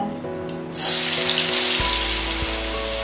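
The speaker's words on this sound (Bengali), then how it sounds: "এতে পনিরটা ভেজে নেব" Paneer pieces dropped into hot oil with a pinch of turmeric, starting with a soft splash and rising into a loud, steady sizzle and hiss that keeps going, close by.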